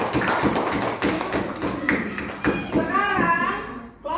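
Pupils in a classroom clap for a group after its presentation, a steady run of sharp hand claps mixed with children's and a teacher's voices, fading out at the end.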